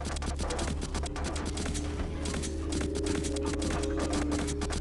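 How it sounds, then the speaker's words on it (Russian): Rapid, repeated muffled gunshots fire in the mobile zombie-shooter game Into The Dead 2 during a driving sequence, a steady stream of dull thuds over a constant low engine-like drone. "Как будто я в глушители, блин, стреляю"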